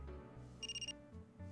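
A phone left behind in an office rings inside a video game, giving a short, faint, trilling electronic burst with a rapid warble, heard alone over a quiet low hum.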